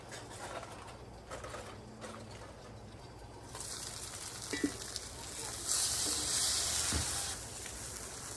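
A big steak cooks on a Blackstone griddle, a steady hiss of sizzling that swells louder in the second half, with faint clicks and background noise.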